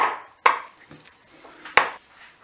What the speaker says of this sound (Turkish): Pudinglerimiz olurken biz de muzu ezelim.